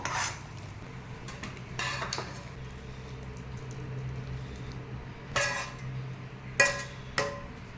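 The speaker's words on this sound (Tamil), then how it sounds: "இப்போது நாம் இதில் கேஷ்யூ நட்ஸ் சேர்த்து இதையும் நாம் நல்லா கிளறி விட்டுக்கலாம்" A spoon scrapes and clinks against a pan while carrot halwa with cashew nuts is stirred, a few distinct metallic knocks over a low steady background hum, fairly close with no talking.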